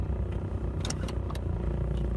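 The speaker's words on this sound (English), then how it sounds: "I know my car a little loud" A loud car engine idling and rumbling close by, a steady low drone with brief higher bursts of noise, alone without talk.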